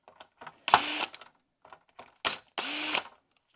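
A power screwdriver removes tiny screws from a keyboard's mylar sheet in two short whirring bursts, each about half a second, close and alone, with small handling clicks and taps between them.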